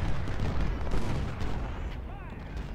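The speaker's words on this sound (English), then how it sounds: "more artillery." Dense, rumbling battlefield barrage from the Ultimate General: Civil War game at the Battle of Shiloh, with overlapping booms of artillery and rolling gunfire forming a continuous loud wall of noise.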